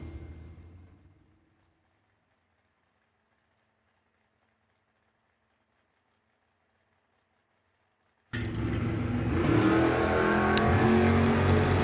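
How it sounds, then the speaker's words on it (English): Two drag race cars, a 1983 third-generation Camaro and a 1970 big-block Nova, launch at a drag strip; after a quiet stretch a loud, sustained engine roar bursts in and holds to the end. "Carly Bryant, Tim Howes. Howes out of Venice, Florida, 1983 model 3rd gen Camaro left side, 656 dial-in"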